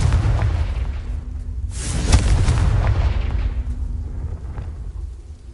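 Bombarda and Confringo spells explode in the Hogwarts Legacy video game as a loud, rumbling roar. One sharper blast swells in the middle, then the sound fades out into a low rumble.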